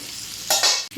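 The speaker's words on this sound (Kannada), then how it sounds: "ಸ್ವಲ್ಪ ಎಣ್ಣೆಗೆ ಈರುಳ್ಳಿ ಕೂಡ ಹಾಕ್ತಾಯಿದ್ದೀನಿ." Sliced onions dropped into hot oil for a stuffed squid masala give a sudden loud sizzle about halfway through, a brief burst of frying after a quiet hiss.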